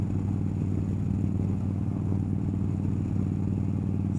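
A 2013 motorcycle idles nearby, a steady low rumbling engine drone with a faint mechanical clatter, constant in level throughout.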